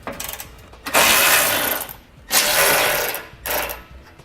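A ratchet loosens skid plate bolts on a 2017 Jeep Cherokee, giving three bursts of rapid clicking, each lasting about a second, close and clear.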